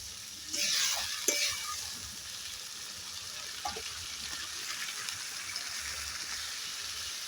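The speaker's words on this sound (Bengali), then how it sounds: "মশলাটা ভালো করে ভেজে নিলাম" Spice masala sizzling and frying in oil while being stirred for koi fish curry, a steady close hiss with scraping stir strokes and a few louder clatters near the start.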